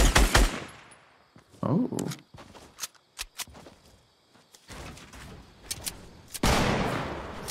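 Fortnite battle royale gunfire: scattered sharp bursts and single shots, some near and loud, others faint, with quiet gaps between, plus a short exclamation from a player.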